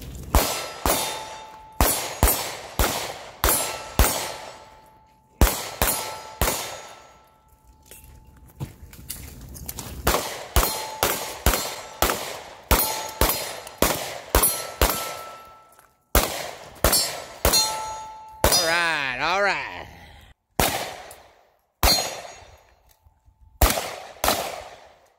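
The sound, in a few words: gunshots hitting steel targets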